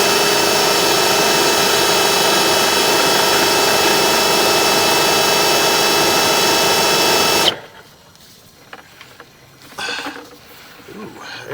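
A Ridgid flex shaft drain cleaner whirs loudly and steadily while scraping grease inside a sewer line, then cuts off abruptly, leaving faint knocks and background noise.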